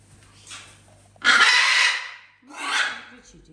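Pet parrots scream during feeding time in a home where dogs are also fed, giving two loud, harsh squawking bursts close by, the first longer than the second, with faint background noise between them.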